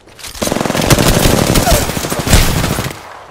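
Rapid automatic gunfire from a weapon in the video game Apex Legends, loud and close, sustained bursts with a brief pause near the end, no talk over it.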